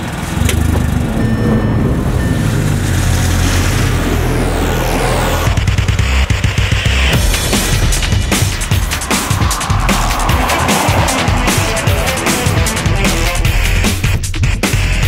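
Methane-powered car lapping a test track with mixed pavement, turns and high-speed sections, its engine droning loudly and continuously from the passenger seat, rising and shifting as it accelerates through the lap.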